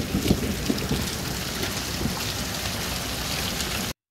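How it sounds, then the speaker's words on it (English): Hail rattling down steadily outdoors beside an RV, a dense, even patter of pellets on surfaces that stays constant and fairly loud before cutting off abruptly, with no voices. "Here's some hail."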